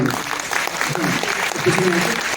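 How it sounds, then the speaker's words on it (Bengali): Applause from a concert audience at a tenth-anniversary show, a dense wash of clapping close by, with a voice and faint crowd noise mixed in. "আমি রিতমের জন্য একটা জোরে হাততালি চাই।"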